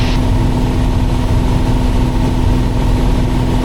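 A single 300-horsepower engine of a Piper Cherokee Six in flight, a loud continuous drone with a steady hum, no voices over it.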